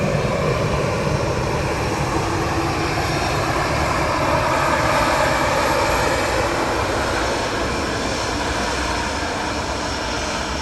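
An American Airlines Boeing 777 arrives from DFW at Dublin Airport on a windy day, a loud, sustained jet engine roar that swells slightly mid-clip, with no voices.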